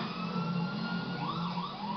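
A wailing emergency siren from a police cruiser in GTA 5 on PS4 rises and falls steadily over a constant engine drone, fairly faint and with no talk.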